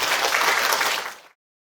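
An audience at a tarot master's book concert claps together in a dense, steady burst of applause that fades out after about a second and a quarter, leaving silence.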